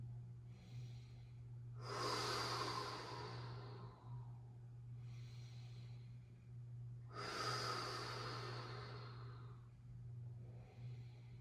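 Slow, deep breathing during a yin yoga class: two long, airy inhale-exhale swells a few seconds apart, soft and close over a steady low hum.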